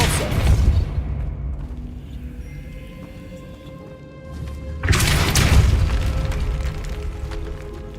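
Depulso spell cast in the Hogwarts Legacy video game: a deep booming blast at the start, a quieter lull with a faint tone, then a second loud whooshing burst that slowly fades.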